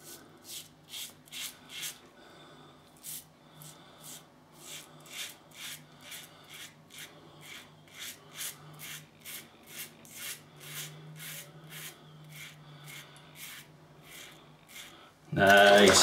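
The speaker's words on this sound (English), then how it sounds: "Put the fat boy on 5, shaving the fat boy, Kevy." Gillette Fatboy adjustable safety razor set to 5 scraping across lathered stubble in short repeated strokes, a steady rasping rhythm close to the mic with a low hum beneath and a loud burst at the end.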